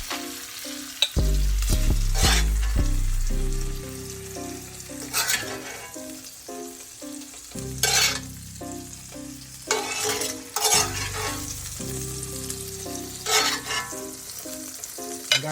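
Food sizzles and fries in a cast iron pot while making Chinese-style house fried rice, with steady crackling, intermittent scraping stirs and clanks of a utensil against the pot, close and loud, no talking.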